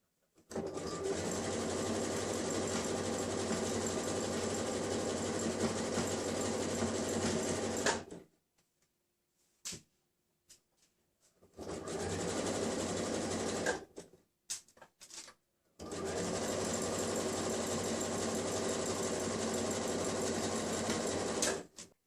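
A sewing machine stitches elastic onto a simple dress, running in long steady whirring bursts near the mic, separated by short quiet pauses with faint handling noises.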